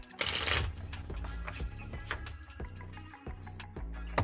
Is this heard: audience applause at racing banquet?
no